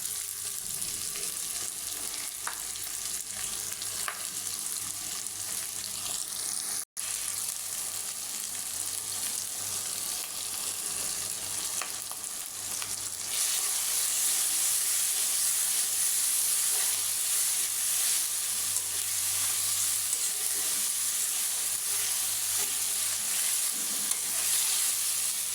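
Garlic paste fries with beef and radish in a pan, producing a continuous hissing sizzle that grows noticeably louder and brighter partway through, steady and close with a few faint stirring clicks.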